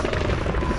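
A helicopter in the video game Call of Duty: Modern Warfare gives a brief, loud, close rotor thump and drone, a dense low rumble that fills the moment without any break.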